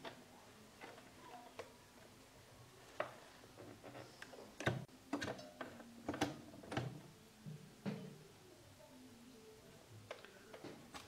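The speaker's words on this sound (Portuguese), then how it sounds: "Direitinho e vou costurar." A home sewing machine stitches bias binding onto a dish towel, heard as scattered soft ticks and short mechanical clatters at moderate distance, fairly quiet against a faint background hum.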